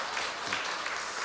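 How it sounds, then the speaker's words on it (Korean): A church congregation claps during Sunday service announcements, a soft, even patter of many hands that sounds distant and faint. "우리 한번 박수 한번 합시다."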